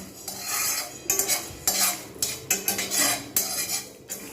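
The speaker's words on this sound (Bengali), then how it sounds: "এইবারে আমি এগুলো সব ভালো করে এগুলো আমি কিন্তু ভেজে নেব রোস্ট করে নেব" Whole coriander, cumin and dried chillies are dry-roasted in a pan for amla pickle, with steady close scraping and clinking of a metal spoon stirring against the pan in quick repeated strokes, no voices.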